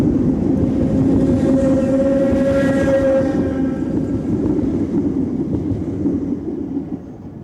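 A Southern Railway electric multiple unit setting off from Southampton, a loud, close rumble with a sustained tonal horn-like drone that fades as the train moves away.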